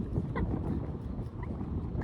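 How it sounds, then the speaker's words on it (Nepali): Wind blows outdoors beside water, a low, buffeting rumble that pushes and swells steadily against the microphone, with faint higher tones passing through and no speech. "मस्त हावा छ त्यो गाइज"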